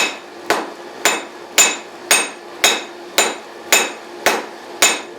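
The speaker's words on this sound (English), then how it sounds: "so I'm just going to go at it with my cross peen" Ten evenly spaced, loud ringing blows from a cross peen hammer widen a knife blade blank on a cast steel Doyle anvil, each strike sharp and metallic with a short decaying ring, no voices.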